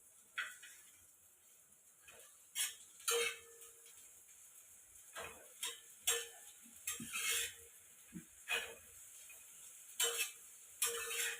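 Onion and tomato sauté lightly in a little oil in a pan for an egg frankie. Faint, intermittent scrapes and clinks of a spatula stirring break through a quiet background.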